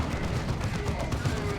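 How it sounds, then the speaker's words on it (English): Manticore artillery strike in the Dawn of War 2: Retribution strategy game, heard as a dense rumbling barrage of rapid impacts and explosions, fairly faint and steady throughout. "Big Manticore strike."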